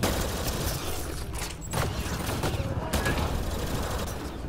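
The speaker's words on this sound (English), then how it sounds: "Unleash all the flat cannons at once." Heavy cannon fire in the sci-fi shooter Mass Effect: Andromeda, a dense, continuous barrage of overlapping blasts and mechanical clatter that stays loud and close throughout, with no voices.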